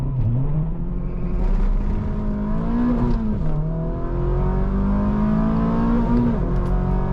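A 2.5-litre Mazda Miata, worn from two years of track use, launches hard and accelerates, its engine revving loud and close with rising pitch that drops briefly at a gear change before climbing again.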